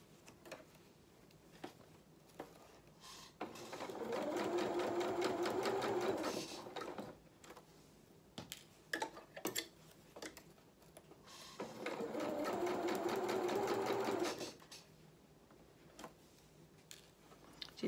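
A sewing machine runs a straight seam on a small doll jacket in two steady bursts of rapid stitching, separated by a quieter pause filled with light handling clicks and taps.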